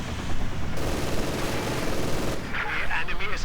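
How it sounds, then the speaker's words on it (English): Automatic machine-gun fire in the real-time strategy game Company of Heroes 2, a dense continuous burst of rapid shots with battle noise, loud and steady throughout, ending in a sharper flurry. "Machine gun opening up."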